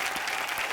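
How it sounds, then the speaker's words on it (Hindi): Studio audience on a Hindi TV comedy talk show, The Kapil Sharma Show, breaks into loud, sustained applause that fills the whole short moment with dense, steady clapping. "एक बार शान और राधिका के लिए जोरदार तालियां"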